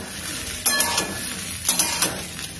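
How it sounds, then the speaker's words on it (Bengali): Beans and chopped vegetables, including potato, frying in a pan for a Bengali spinach-stem curry, with a soft steady sizzle broken by a few clattering stirs and scrapes of a utensil against the pan. "শিমগুলো দিয়ে একটু ভাজা ভাজা আমি করে নিচ্ছি"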